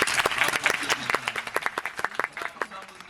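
A theatre audience at a musical's closing curtain-call greeting applauds the three-piece live band. Close, distinct claps from many hands come in a quick, uneven patter, moderately loud, with a murmur of voices beneath.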